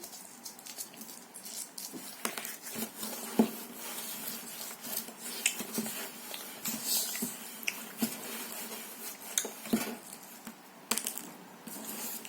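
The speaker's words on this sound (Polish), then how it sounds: "Teraz oczywiście mieszamy." Soft scraping and light clinking of a utensil stirring in a bowl, a steady close-up patter with occasional small knocks, fairly quiet and without talk.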